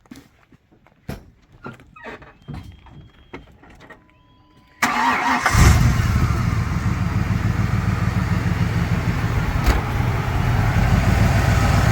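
A 1999 Ford Ranger with a swapped-in 5.0 302 V8 cranks and fires, then settles into a loud, steady, rumbling idle close by, after a few seconds of quiet clicks and handling noises.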